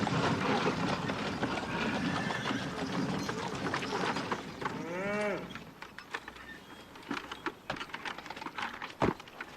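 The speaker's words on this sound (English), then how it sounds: "I want to stay and watch cattle." Cattle on a ranch give a single drawn-out moo partway through, heard clearly against an outdoor backdrop of busy background noise, with scattered clicks and knocks following afterward.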